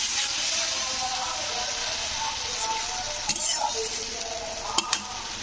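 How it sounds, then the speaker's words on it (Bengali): A spatula stirs Roopchand (pomfret) fish curry spices in a pan just after water is added, a continuous low sizzle and bubbling with scraping strokes and a few sharp clinks against the pan near the end. "আমি জল দিলাম তো দিয়ে এটাকে একটু নেড়ে দিলাম"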